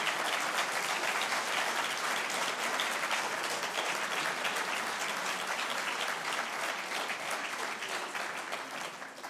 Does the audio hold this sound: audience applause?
yes